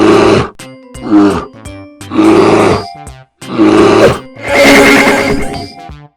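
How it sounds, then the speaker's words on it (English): A bear growls in a series of loud, close, rough grunting roars, five or six bursts with brief gaps, the last one longest and harshest. "B for bear"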